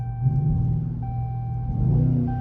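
A Dodge Charger fitted with a Pedal Commander throttle controller gives a deep, steady engine rumble at light throttle, close and fairly loud with a slight swell near the end, and no talking.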